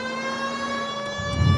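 A police car siren wails in the video game L.A. Noire, a sustained tonal blare that is loud and close for a brief moment, with no voices.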